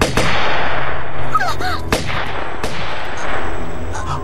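Gunfire in a Chinese period drama scene: a few sharp, loud gunshots crack out at irregular intervals, each with a short echoing tail, over a low background rumble.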